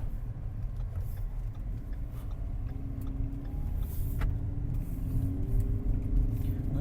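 A 2013 Lincoln MKZ's two-litre turbocharged engine hums steadily and rises slightly as the car pulls away and gathers speed. The sound stays low, muffled and continuous, as if heard from inside.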